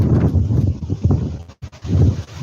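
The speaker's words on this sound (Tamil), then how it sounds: "எவ்வளோ காற்றடிக்குதுன்னு பாருங்கள்" Strong wind rumbles across the microphone in heavy gusts, briefly dropping away before surging back.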